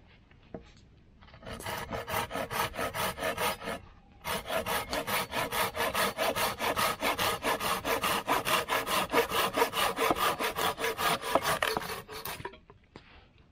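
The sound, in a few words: sawing wood with Silky Big Boy folding saw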